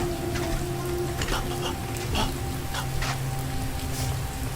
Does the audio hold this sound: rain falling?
yes